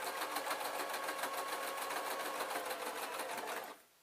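A sewing machine stitches a beaded clutch bag in a steady, fast rhythmic whir that runs close and continuous before cutting off at the end.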